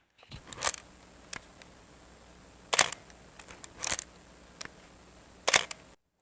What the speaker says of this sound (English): have a listen to the action of the camera from winding to shooting